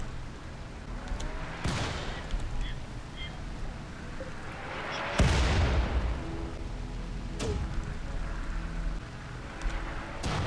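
Weapons firing in the colony-building video game RimWorld: a few sharp, loud booming shots punch out of a dense wash of rumbling battle noise, spaced several seconds apart.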